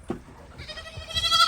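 A goat bleats in a short wavering call that grows louder toward the end, heard close by over low background noise.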